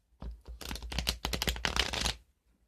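Rapid riffling of a deck of tarot cards being shuffled, a dense burst of papery flutters lasting about two seconds, close and fairly loud.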